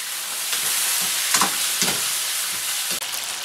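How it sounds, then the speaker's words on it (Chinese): Sugar sizzles in hot oil in a wok, a loud, continuous frying hiss close to the microphone, with a few soft stirring scrapes. "炒个糖丝，"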